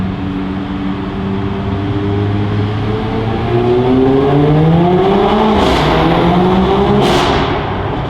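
Mercedes CLA 45 AMG fitted with a loud iPE aftermarket exhaust accelerating through a tunnel, a loud, continuous engine note rising steadily in pitch with sharp pops near the end, heard alone without talk.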